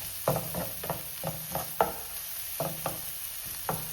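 Onion and tomato fry on a high flame while a spoon stirs and scrapes the pan in a regular rhythm of close, distinct knocks over a constant background sizzle.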